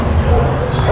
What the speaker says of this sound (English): now we have a dog that's barking here at a fence line